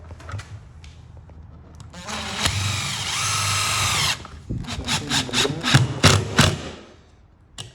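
A power drill whines in bursts as it drives a lug screw into timber beside a cavity wall box, with one long sustained run followed by a series of short rapid pulses.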